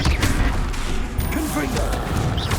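A Bombarda spell blast in Hogwarts Legacy, with booming impacts and mechanical clatter during combat, loud and close, with a voice speaking over part of it.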